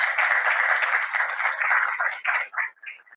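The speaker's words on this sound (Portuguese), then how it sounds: "Peço uma salva de palmas" Steady applause from a crowd at a tribute event fills the room, then thins into a few scattered claps before fading out.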